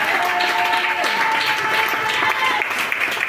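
A church congregation applauds, a dense and loud burst of clapping from many hands that carries straight through, with voices and faint sung tones mixed in.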